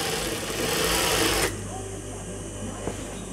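A sewing machine stitches along the edge of a salwar in a fast, close, continuous whir that stops abruptly partway through, leaving quieter room tone with a small click near the end.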